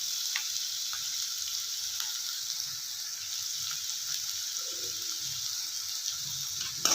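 Chopped green chillies and onion fry in hot oil for vermicelli upma, a steady close sizzle with light stirring scrapes and clinks running throughout.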